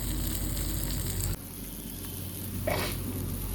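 Goat brain masala fries in a pan with a dense, steady crackling sizzle that drops abruptly partway through and continues more quietly, with a brief stir near the end.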